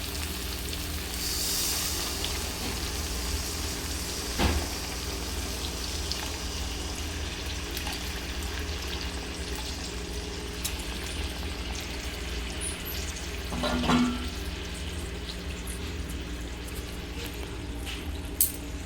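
Potatoes and peas simmering and sizzling in a small amount of water added to spiced gravy, with paneer to follow, a steady soft bubbling hiss throughout, broken by a couple of brief clinks or stirs.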